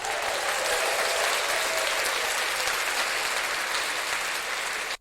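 A recorded applause effect plays back from a TASCAM Mini-Studio Creator 42, a dense, steady burst of crowd clapping and cheering at full level for about five seconds before cutting off abruptly.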